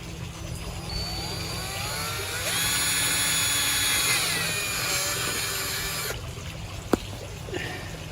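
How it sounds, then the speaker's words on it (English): A power drill boring through a plastic pond lip whines steadily, its pitch rising and holding for a few seconds before cutting off, over a constant low hum, with a sharp knock near the end. "we're going to do is just drill through the top of the lip here."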